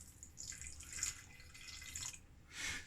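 Water is poured and measured out at home for a sourdough starter, giving a soft, steady trickle with brief splashy swells throughout.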